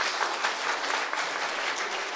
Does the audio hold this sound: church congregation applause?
yes